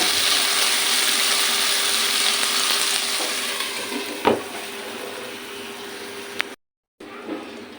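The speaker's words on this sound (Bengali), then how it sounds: "ভেজে রাখা কোপ্তাগুলো দিয়ে একটু নেড়ে চেড়ে মিশিয়ে নিব মিশিয়ে একটুক্ষণ কষিয়ে নেব" Fried banana-flower koftas being stirred and sautéed in curry masala, a steady broadband sizzle with faint scraping and a sharp clink near the end, then a brief dropout.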